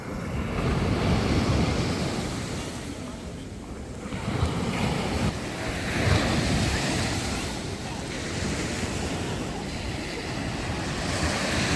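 Rough, stormy surf at Langeron beach in Odesa crashes continuously with strong wind buffeting the microphone, waves rolling in and breaking close by without pause.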